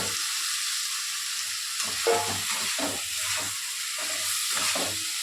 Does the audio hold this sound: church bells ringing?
no